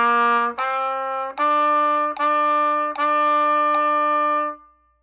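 Solo trumpet plays the opening phrase of Merrily We Roll Along: five clear sustained notes, each separated by a short articulation gap, with a steady tone and a soft release at the end.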